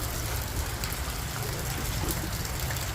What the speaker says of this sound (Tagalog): Yan, umuulan.